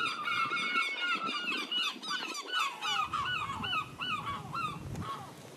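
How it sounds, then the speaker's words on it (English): Seagulls call near the coast in a busy overlapping series of honking, squealing cries, some close and loud, others farther off, continuing throughout with no talking. "Seagulls, it's what you have by living near the coast."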